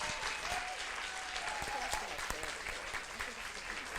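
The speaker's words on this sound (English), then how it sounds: "Let's give her a big round of applause." An audience at a stage show claps in a steady, dense round of applause, fairly distant and continuous throughout, with no speech over it.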